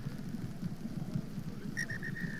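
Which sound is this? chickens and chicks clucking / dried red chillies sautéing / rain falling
rain falling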